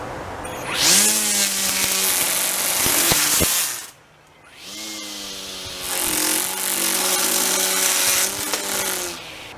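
An EGO 56V cordless string trimmer runs with a loud, steady motor whine while cutting into a half-inch sapling. It makes two sustained runs, and the sound drops briefly between them.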